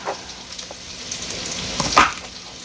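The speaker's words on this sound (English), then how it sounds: "I'm going to check on my bacon because I do have to remove that from the pan" Bacon frying in a pan for a Southern New Year greens, peas and pork dish, a soft continuous sizzle with faint crackles and a brief louder pop near the end.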